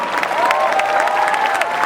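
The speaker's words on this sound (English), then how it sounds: "Please have a huge hand for Noam Murro" A large Comic-Con panel crowd for director Noam Murro breaks into loud, dense applause with scattered cheers, continuous and close, while a voice carries over the clapping.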